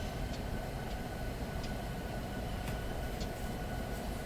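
A Union Pacific coal train in Train Simulator 2019 coasts down a steep Pleasant Valley grade with the throttle off. It produces a quiet, even rumble with faint, scattered rail clicks and no voices.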